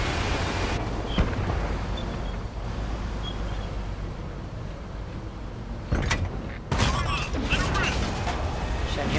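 Tank cannon shots in a tank battle game with a T110E3, sharp booms cutting through a steady engine rumble and battle noise, two heavier blasts near the end while a player talks over it.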